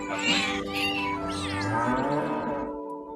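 A cat meow sound effect plays clearly and close, a long drawn-out harmonic call with rising and falling pitch lasting about three seconds, with no talking over it.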